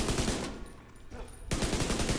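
Rapid automatic gunfire from The Division 2 video game, dense bursts of shots that drop away briefly in the middle before a loud volley resumes.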